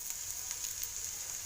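Radish pieces dropped into hot oil in a pan, a faint, even hiss of sizzling with light crackle throughout a brief moment, no voices.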